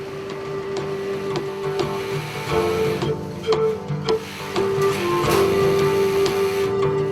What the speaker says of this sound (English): this has to be closed up on a sewing machine